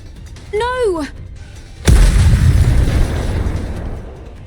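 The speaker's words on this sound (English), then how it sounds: "The missiles have no homing ability. It's just firing wildly!" Loud missile blast in the Nikke x Stellar Blade video game, a sudden heavy explosion that rumbles on and slowly fades, preceded by a brief high whining voice-like cry.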